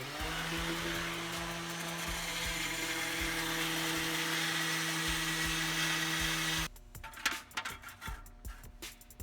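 A power tool grinds off excess edge material on a part of a 1988 Hatteras 65C boat during a purge blower repair, giving a steady, loud whine for several seconds before cutting off into scattered clanks and handling noises.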